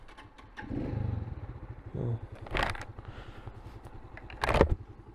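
A Router RM125 motorcycle engine idles with a rough, throbbing rhythm, revving briefly a couple of times, with a short spoken word near the start.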